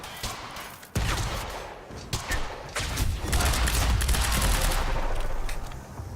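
Assault rifle fire in the video game Quantum Break, with a sharp onset followed by sustained loud bursts of rapid shots and impacts continuing densely for several seconds.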